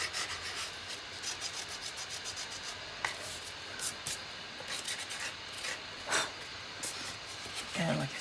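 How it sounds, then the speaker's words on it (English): Nail file rubbed along paper edges of a large scrapbook folio, a steady soft rasping scratch with faint rhythmic strokes, close and quiet throughout. "most of that's going to come off when you nail file your edges"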